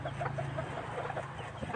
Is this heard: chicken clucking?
yes